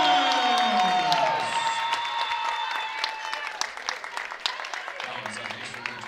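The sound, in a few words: home basketball crowd cheering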